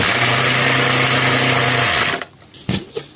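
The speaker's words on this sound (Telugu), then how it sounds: "మిక్సీ వేసుకుందాం కొంచెం" Loud, close mixer grinder grinding spices, whirring at high speed for about two seconds, then cutting off, followed by a few knocks and rattles.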